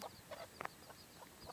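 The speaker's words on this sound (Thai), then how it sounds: "นี่หาลูกไก่ลูกไก่ลูกไก่" Soft, scattered clucks and peeps from chicks, faint and intermittent, with a couple of brief louder calls in the middle.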